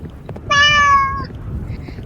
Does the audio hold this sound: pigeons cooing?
no